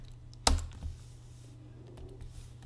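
The delete key is pressed on a computer keyboard while working in Adobe Illustrator CS6, a single sharp, close click followed by a softer tap over quiet room hum.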